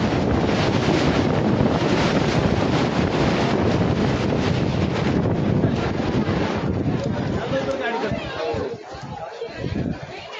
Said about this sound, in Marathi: तर वारा अचानक परत सुटलेला आहे.